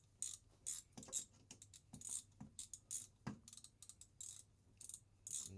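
Ratcheting wrench tightening hardware on the intake boots of a 2002 Polaris Pro X 440-500 snowmobile in a star pattern: quick bursts of clicking pawl ratchet strokes in irregular runs, close and fairly quiet, with occasional metallic taps.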